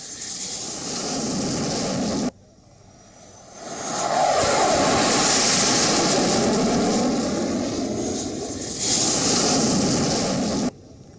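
Loud, sustained roar of Indian Air Force fighter jets, Sukhoi and Mirage, flying over the Purvanchal Expressway at Sultanpur during an air show, swelling and fading in long waves as aircraft pass overhead.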